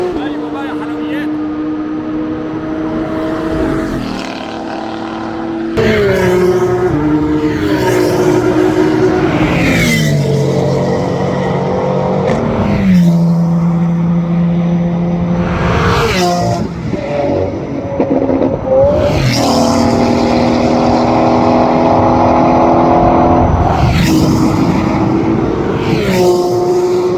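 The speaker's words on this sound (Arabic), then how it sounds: "انت متخيل صوتها العربيه دي بجد مرعب" A sports car engine revs loudly and repeatedly, rising and falling in pitch through several strong bursts, with people talking underneath.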